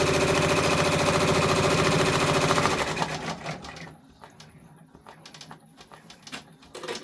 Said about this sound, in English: this is going to be the first placement stitch